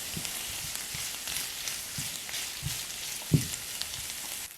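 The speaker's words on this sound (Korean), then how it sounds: "팬의 한쪽 면에 베이컨을 넣어 볶은 후 미리 볶아놓은 양파와 섞으면서 볶아주세요" Bacon and onion frying together in a pan, a steady soft hissing sizzle with a few faint stirring knocks and one brief louder clatter, no voices.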